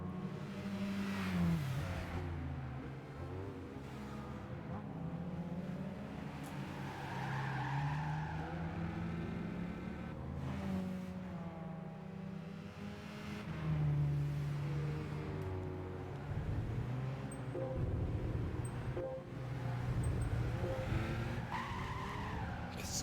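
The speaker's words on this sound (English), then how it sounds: "Stop drifting now." Car drifting in Gran Turismo 5, with tires squealing in long wavering screeches over a steady engine drone. The sound runs loud and continuous for the whole stretch.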